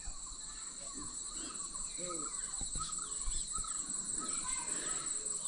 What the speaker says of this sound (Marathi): रातकिडे ओरडायला सुरुवात झाली आहे